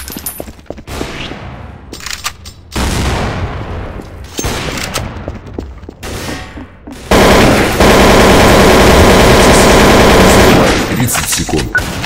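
Rapid automatic gunfire from the Counter-Strike: Source video game, loud bursts of machine-gun fire broken by short pauses, ending in a long sustained stream of shots.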